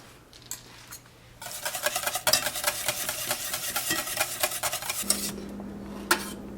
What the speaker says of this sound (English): Continue to whisk.